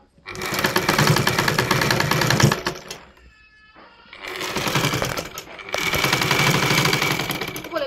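A sewing machine stitches lace onto a saree border in loud, rapid mechanical bursts, running for several seconds, pausing briefly with faint handling sounds, then starting again in two more runs.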